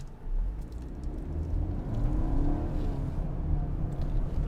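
A 2020 BMW X3 sDrive30i on 18-inch wheels pulls away from a stop, its engine a steady, fairly close rumble that builds slightly and holds, with road noise underneath and no talking.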